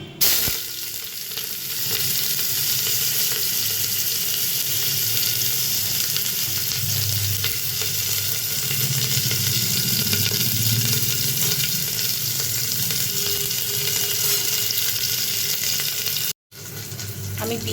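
Chopped onions frying in a little white oil inside a pressure cooker, a steady loud sizzle that runs without a break and cuts off abruptly near the end.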